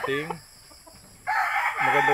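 Gamecocks bred for fighting crow loudly and close by, a ringing crow opening the clip and another closing it, with a rough squawking burst from the fowl in between.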